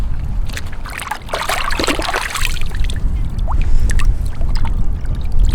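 A mud-caked bottle is rinsed in the River Thames, water sloshing and splashing close by in bursts, then steady lapping and trickling.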